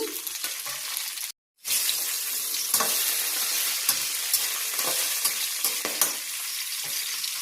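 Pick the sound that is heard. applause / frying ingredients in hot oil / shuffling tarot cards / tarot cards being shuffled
frying ingredients in hot oil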